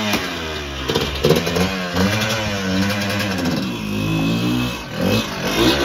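A Yamaha YZ125 two-stroke dirt bike engine runs and revs close by, a loud buzzing drone with rising and falling pitch sweeps and a few sharper blips, steady throughout.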